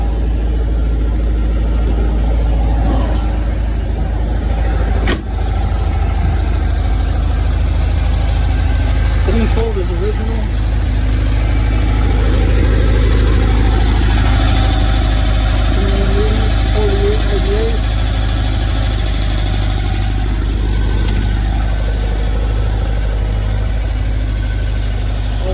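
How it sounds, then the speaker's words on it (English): A 2180 engine with 48 carburetors idles in a 1952 Volkswagen split-window bus, a steady low rumble heard close throughout while someone talks intermittently over it. "I'm show you the motor real quick."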